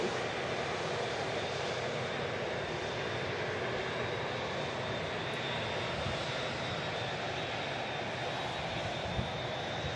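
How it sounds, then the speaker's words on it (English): An Emirates A380 taxis past the Runway Visitor Park at Manchester Airport, its jet engines giving a steady, broad roar with a thin high whine that holds evenly throughout. "the Emirates A380. Just taxiing past us here at the Runway Visitor Park"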